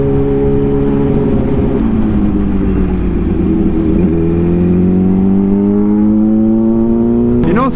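Road traffic in California: a loud, steady engine drone with rising and falling tones as vehicles accelerate and pass nearby, continuous throughout with no talking.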